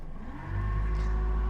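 A Yamaha 150 outboard motor on a 22 ft Willie Raptor boat shifts into gear, its low engine drone swelling after a quiet start into a steady, loud, close hum that holds to the end.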